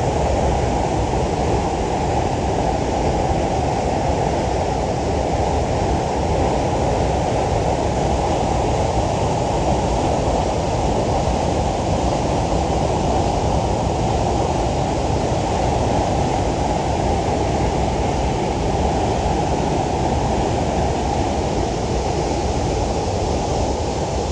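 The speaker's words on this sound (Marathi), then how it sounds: "तुमकां पळोवपाक मेळटा जाल्यार धबधबो." Harvalem waterfall pours with a steady, dense rush of falling water, a continuous loud roar that holds unchanged throughout with no voices.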